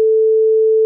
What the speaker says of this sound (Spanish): Y una de 440 hercios suena así.